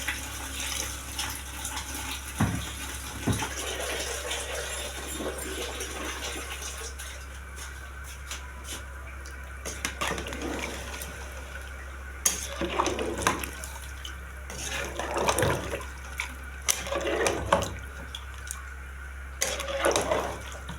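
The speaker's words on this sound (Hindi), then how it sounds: "अब इसके अंदर हम पानी ऐड कर रहे हैं जिसमें हमारा गोश्त जो है वो आराम से गल जाए" Water pours and splashes into a large cooking pot of beef haleem in a steady, uneven stream, with intermittent clanks and a constant low hum in the background.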